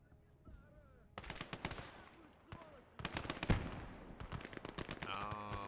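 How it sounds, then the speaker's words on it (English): A 2 cm flak gun in Gates of Hell pounds out rapid bursts of automatic fire, sharp repeated cracks in two main volleys with a heavy blast among them, while someone speaks quietly beneath. "That's a 2 centimeter flak."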